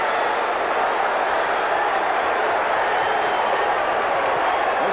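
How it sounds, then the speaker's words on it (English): A dense, steady roar from a hockey arena crowd at a 1979 Stanley Cup playoff game between Toronto and Atlanta, loud and continuous throughout, a broad wash of voices without distinct breaks. "This crowd has been in an uproar since Pronovo got the first Atlanta goal to make it a 2-1 game."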